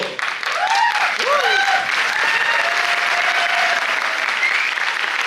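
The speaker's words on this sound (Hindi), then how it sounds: "जो पी के आए हैं वो लोग ताली बजा रहे हैं।" Applause from an audience fills the stretch without a break, steady and fairly loud, with several whistle-like tones and voices rising over the clapping crowd.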